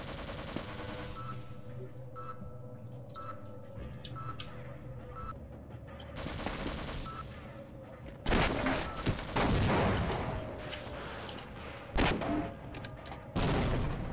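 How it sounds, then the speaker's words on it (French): Automated turret in the video game Half-Life opening fire, giving rapid bursts of machine-gun shots with booming impacts that come in loud clusters over a steady game background, growing denser toward the end. "Là il y a une tourelle"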